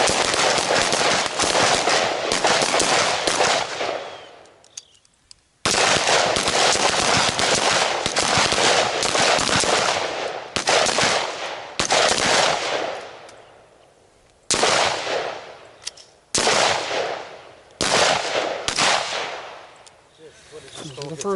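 Rifle and carbine shots fired at close-range targets on a range, a loud dense string of sharp reports in several bursts separated by brief pauses.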